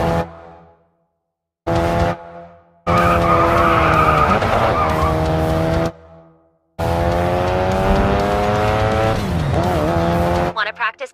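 A race car in the Racing Master mobile game drifts through corners, a loud revving engine with long squealing tire skids in two bursts, separated by pauses, with a voice giving driving instructions between them.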